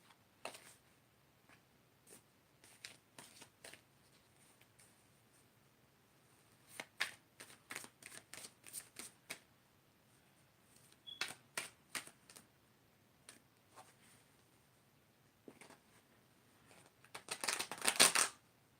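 Tarot cards being shuffled, heard as intermittent bursts of riffling and flicking separated by quiet gaps, with the busiest, loudest shuffle near the end; no one talks.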